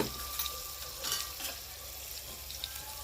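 Cumin and mustard seeds sizzle in hot oil with garlic, a close, dense crackle with scattered sharper pops and no voices.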